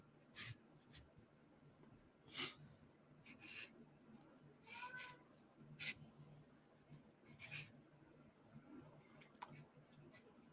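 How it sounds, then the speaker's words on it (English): A cat scratches in a litter box indoors, faint intermittent gritty scrapes and rustles in short irregular bursts, close but quiet in a still room. "one of our cats is working on a poop in the litter box. I can hear her."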